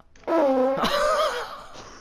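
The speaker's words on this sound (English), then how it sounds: "I'm gonna fart first." A fart, a loud close blast lasting about a second with a rough buzzing tone that shifts pitch midway before trailing off.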